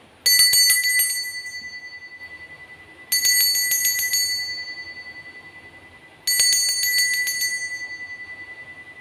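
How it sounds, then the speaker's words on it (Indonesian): A bright bell rings three times at steady intervals, each strike sharp and loud before slowly fading into quiet. "Kita akan memulai dengan ditandai lonceng berbunyi."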